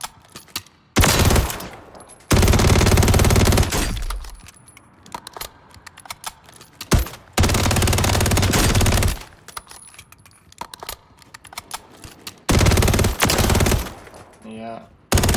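SMG fire in Path of Exile, several long loud sustained bursts of rapid automatic shots separated by quieter gaps of clattering game sounds.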